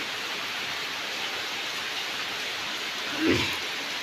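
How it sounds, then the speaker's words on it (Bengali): Steady rain falls in a soft, even patter, with a single brief knock or bump near the end. "সকাল থেকে শুরু হয়েছে ভালোই বৃষ্টি"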